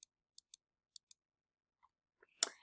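Sharp, faint computer mouse clicks come in a quick irregular series of about five, alone in near silence, with a few softer taps and a louder rustle at the end.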